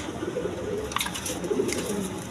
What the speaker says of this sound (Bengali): একদম বিগ সাইজের দেখার মতো কবুতর